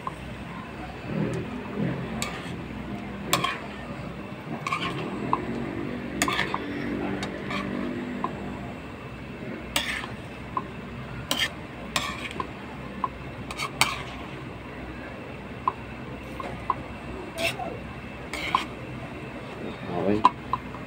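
Bopis, a Filipino dish, is stirred in a pan, with a spoon or spatula scraping and clinking against the metal in scattered sharp knocks over a low background of cooking noise, while a voice speaks intermittently.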